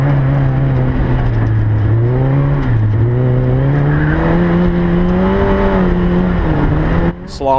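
A sports car threads a slalom course, its engine a loud, close, continuous drone whose pitch rises and dips with each throttle change through the poles, cutting off sharply just before the end.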